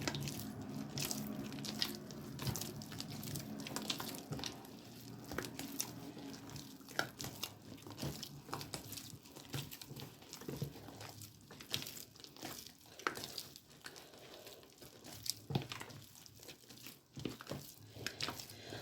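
Hand-kneading of pastry dough for Turkish poğaça as about 150 grams of added fat is worked in, quiet close squishing, slapping and crinkling textures in an irregular rhythm, with no talk.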